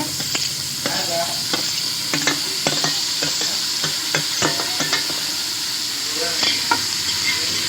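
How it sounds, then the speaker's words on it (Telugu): Tomatoes hit a hot pan of cooking tomato rice and sizzle continuously while a spoon scrapes and stirs in repeated irregular clacks, close and moderately loud. "కొంచెం టమాటా పండ్లు వేసేద్దాం దీంట్లోకి"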